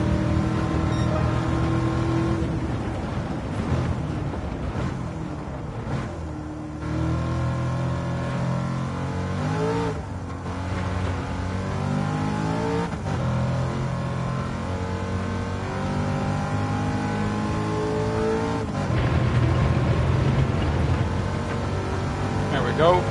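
A race car engine in Gran Turismo 7 revs and shifts through the gears, rising and falling in pitch across a lap while a voice talks over it.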